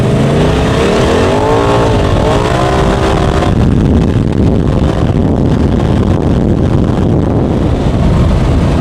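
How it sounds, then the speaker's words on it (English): A Mercedes G63 engine revs and roars for several seconds, then gives way to steady, loud wind rush over the microphone as the vehicle speeds along. "I can just hear the G63 revving"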